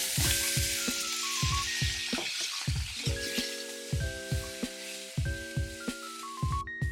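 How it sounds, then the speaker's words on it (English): Pork chops sizzle and hiss in a hot pan, the frying sound mixed under louder, rhythmic plucked background music. "Want to get a good bit of colour on them, get that sizzle going."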